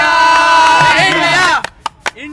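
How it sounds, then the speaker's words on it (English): Crowd cheers for PV Sindhu after her medal, a dense burst of shouting voices that lasts about a second and a half before breaking into scattered claps and calls. "now they are still cheering for her"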